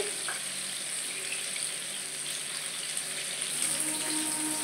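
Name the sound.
young jackfruit frying in a pan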